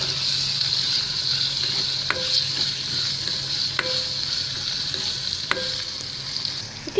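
Tomatoes stirred and fried in a pan for a Kadai chicken curry: a steady, close sizzle runs throughout, broken by three sharp scraping stirs of the utensil against the pan, with no talking.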